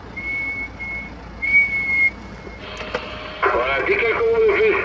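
Over a CB radio link during a mobile antenna test, a thin steady whistle sounds in short tones, then gives way to a voice crackling through the radio with static.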